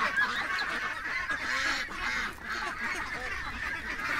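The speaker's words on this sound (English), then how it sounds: "now I got ducks chewing on my boots" Ducks chatter and honk nearby while chewing on a person's boots, a busy overlapping stream of nasal calls with no pauses.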